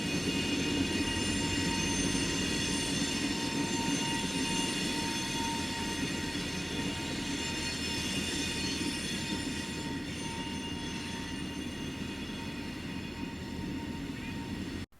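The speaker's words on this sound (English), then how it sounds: "we see KCS rebuilt SD45 number 3162 and CP SD40-2 number 6024 performing some switching moves around the DeQuincy Watt for CPKC's LO18 train" Freight train switching with a KCS rebuilt SD45 and a CP SD40-2 locomotive at a rail yard: a steady, fairly faint rumble of rolling cars, with a high, sustained wheel squeal running throughout.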